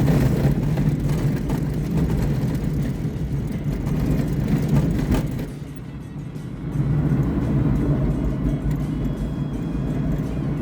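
A 1966 Dodge Dart that sat unused for 30 years, floored at full throttle on the road yet bogging and barely accelerating: a loud, continuous low engine drone from inside the car that dips briefly before returning.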